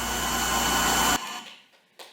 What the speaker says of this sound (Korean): 펌프가 잘 작동하나요?